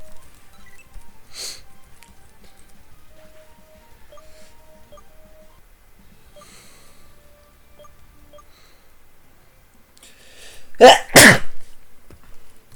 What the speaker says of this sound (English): I hate when sneezes are like that